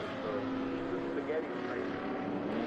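Vintage race cars with open exhaust headers at Laguna Seca raceway give a steady, loud engine drone with a sustained tonal hum throughout, and no voice stands out over it.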